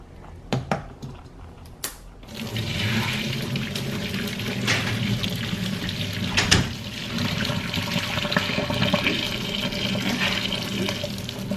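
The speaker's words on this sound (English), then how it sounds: "just boiling hot water, not too much." A few sharp clinks, then a steady stream of boiling hot water pours continuously, splashing and bubbling at close range until the end.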